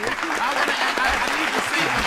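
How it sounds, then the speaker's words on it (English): An audience claps in a brief burst of applause, dense and steady, while a voice talks over it. "Clap for that shit."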